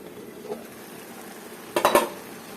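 A spoon scrapes and stirs taro curry with hilsa fish in a pot, with a quiet background and a short burst of clattering, metallic scraping near the end.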